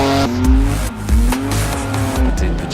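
A Renault Twin'Run with a 3.5-litre V6 of nearly 350 horsepower roars loudly nearby, its engine note rising and falling through quick rev changes and gear shifts with no talking.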